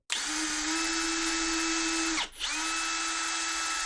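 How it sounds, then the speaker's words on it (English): A power drill whines steadily and close, briefly dipping in pitch as it bites through a 3D-printed plastic helmet, then spinning back up. "I'll go ahead and I'll drill those holes out."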